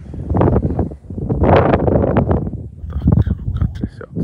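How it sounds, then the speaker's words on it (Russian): Gusty wind buffets the microphone outdoors during a woodcock and snipe hunt, a loud rumbling roar that rises and falls, with someone speaking over it. "Ветер."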